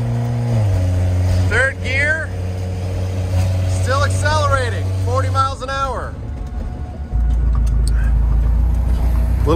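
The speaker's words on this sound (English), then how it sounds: "Accelerating 40 miles an hour." A car accelerates up to about 40 miles an hour, its engine note holding a steady low drone before dropping and shifting tone near the end, with people talking over it throughout.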